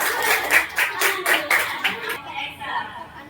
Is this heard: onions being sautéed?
no